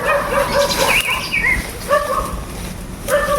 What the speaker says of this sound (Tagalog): Mga aso yan ng mga bandido.